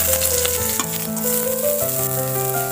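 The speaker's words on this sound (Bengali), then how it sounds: "পেঁয়াজটা আমি হালকা ভেজে নিয়েছি" Chopped onion fries in mustard oil in a pan, a loud, close, continuous sizzle with soft stirring scrapes, and faint background music runs underneath.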